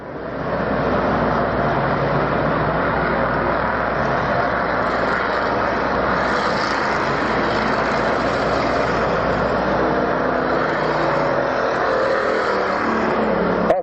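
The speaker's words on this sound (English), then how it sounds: "The cars pick up the speeds as they come down the home chute." Race cars at Orange County Speedway during a 150-lap enduro championship roar down the home straightaway, a loud, continuous blend of engines droning and building steadily for many seconds.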